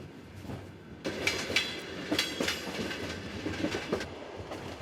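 A sleeper train travels along a railway in Kazakhstan: a quiet hum becomes a louder rolling roar after a second, with rhythmic wheel clacks and faint squeals repeating over a steady rumble.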